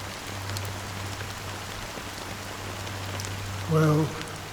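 Constant rainfall hisses through a Honkai: Star Rail game scene, an unbroken wash of drops, with a brief voice sounding near the end.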